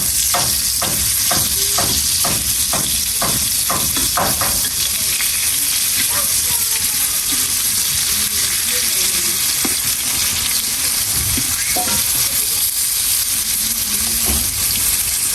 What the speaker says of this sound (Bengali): বেগুন ভাজা হচ্ছে, বেগুনের চপ ভাজা